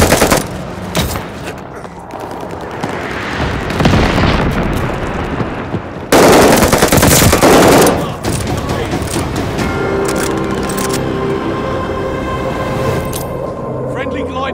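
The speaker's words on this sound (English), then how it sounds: "Allies called a bombing run." Bombing run in Call of Duty: Vanguard, with dense rapid machine-gun fire and heavy booming explosions that swell and crash loudly, continuing under ongoing battle noise and voices.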